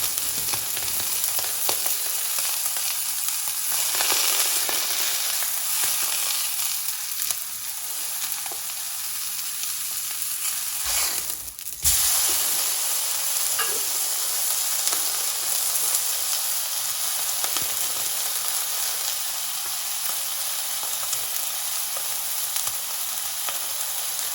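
A ribeye steak sizzles steadily and loudly in a hot pan, a continuous dense frying hiss with a brief disturbance midway as the meat is flipped.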